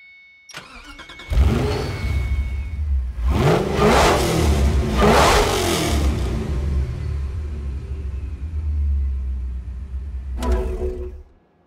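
A 2011 Ferrari 599 GTO's V12 in Forza Motorsport 4 starts with a click and a loud bark, then revs hard in several rising-and-falling sweeps before a steady rumbling idle and a final blip cut short.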